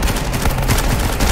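Gunfire in the military shooter game Blackhawk Rescue Mission 5, a dense, continuous stretch of loud shots and blasts running through the whole short burst with no talk over it.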